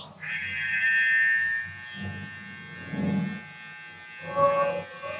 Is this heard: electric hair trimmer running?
yes